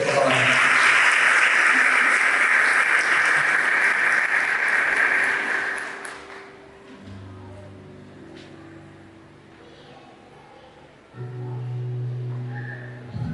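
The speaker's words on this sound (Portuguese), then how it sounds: "Dá uma salva de palmas bem poderosa para falar." A church congregation bursts into loud, dense applause for about six seconds, then the clapping fades into quieter room sound and low murmuring.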